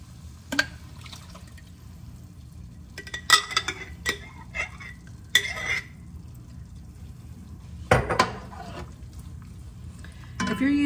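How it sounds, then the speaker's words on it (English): Homemade canned spaghetti sauce being added to a zucchini lasagna, sparse wet plops, scrapes and clinks of a utensil against a jar and pan, separated by quiet gaps. "next we're gonna add our spaghetti sauce"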